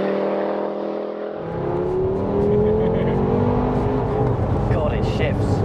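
A tuned 535 bhp Audi RS3 8P accelerating hard, its engine note climbing through the revs before a gear shift, then building again, loud and close.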